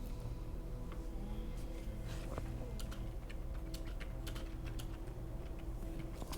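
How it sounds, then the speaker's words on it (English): Rapid typing on a computer keyboard, a continuous patter of close, crisp key clicks over a steady background hum, with no voices. "Stop typing that down."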